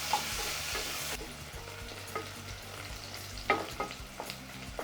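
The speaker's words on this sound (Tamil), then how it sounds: "வெங்காயம் நல்லா வதங்கணும்." Steady sizzling of onions frying in a pan, with occasional stirring scrapes and clicks, continuous and close without any talking.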